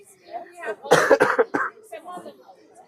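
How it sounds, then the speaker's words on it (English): A short burst of several harsh coughs in quick succession, close to the microphone, with faint voices murmuring before and after. "I've got a bit of a cough."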